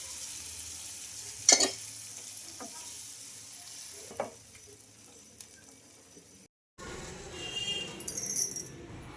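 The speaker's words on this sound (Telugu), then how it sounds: "మిక్సీకి వేసుకున్న చట్నీ అయితే ఇందులోకి అయితే వేసేసుకుంటున్నా ఈ పోపు దాంట్లోకి" Quiet frying with scattered spoon clinks and scrapes, a brief gap, then a louder burst of sizzling as blended chutney hits a hot oil tempering.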